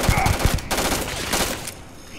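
Rapid gunfire in the Starfield video game, a dense burst of repeated shots blending into noisy combat sounds for about two seconds before tapering off.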